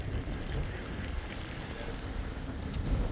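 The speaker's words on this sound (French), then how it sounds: "Ah, il y a la pluie." Rain falls steadily outdoors, a continuous broadband hiss with some wind rumble, fairly close and even throughout, with no one talking.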